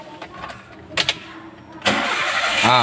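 Toyota Avanza/Xenia car engine cranking with a brief starter burst, then firing up into a loud, steady idle whose pitch rises as the revs climb near the end.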